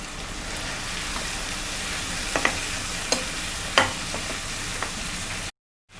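Chopped tomatoes and capsicum sizzle steadily in a pan for pav bhaji, with a few sharp scrapes of a spoon stirring them before the sound cuts off abruptly.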